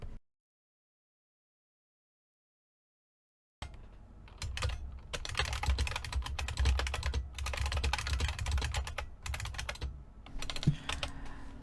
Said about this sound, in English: now I'm typing with this keyboard while writing my script for this video